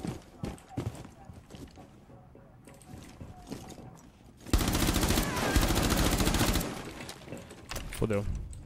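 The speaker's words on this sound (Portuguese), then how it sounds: "tô levando tiro cruzado aqui" Gunfire in a Rainbow Six Siege crossfire: scattered single shots and short bursts, then a dense, loud sustained stretch of automatic fire, then sporadic shots again.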